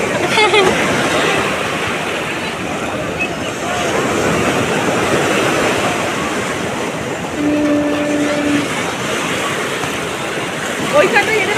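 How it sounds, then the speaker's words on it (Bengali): Sea waves break on the beach at Puri, running strong just before a full moon. A loud, continuous broadband roar of surf fills the whole stretch, with faint voices in the background. "সামনে পূর্ণিমা বলে ঢেউটা দারুণ আছে।"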